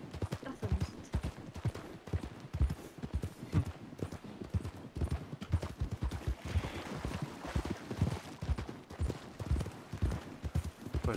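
Horse hooves clip-clop steadily in the Red Dead Redemption 2 game, a quick continuous rhythm of fairly close hoofbeats with some busy game noise around them and no talk.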